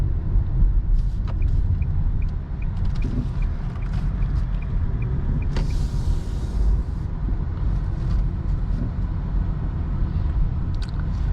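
A 2020 Nissan Sentra rolls slowly into a parking spot, heard from inside the car as a steady low engine and road rumble with faint ticking, and no voices.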